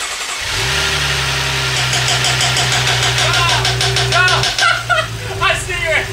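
A BMW 640i with a newly fitted engine cranks over, then catches and settles into a steady loud idle with a deep hum, while excited voices cheer near the end.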